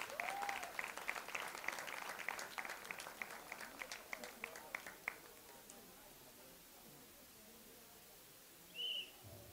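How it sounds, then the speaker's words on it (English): A college audience at a film promotion event gives a round of applause. The dense clapping is loud at first, thins out and stops after about five seconds, and a quiet pause follows. "Big round of applause, ladies and gentlemen."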